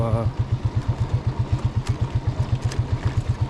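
Motorbike ridden along a road in Kenya, its engine giving a steady rapid pulsing putter at moderate level, with wind noise over it.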